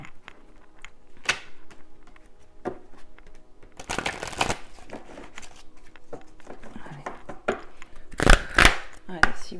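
Tarot cards shuffled by hand in a few short riffling bursts, close and crisp, with quiet gaps between and a louder flurry near the end.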